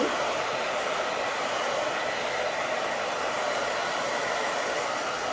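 A hair dryer blows steadily on short styled hair, a close, loud, continuous airy whoosh that holds an even level throughout with no talking.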